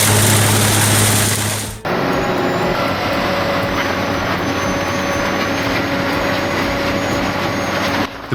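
An industrial shredder cutting rubber gives a steady, loud mechanical roar with sustained tonal hum. A sharp change near two seconds gives way to continuous grinding that runs to the end with no talk.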